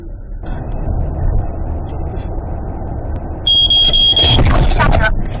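Car's AEB collision warning alarm sounds loudly for about a second, high repeated electronic beeps over steady road and engine noise inside a moving car, with a voice nearby.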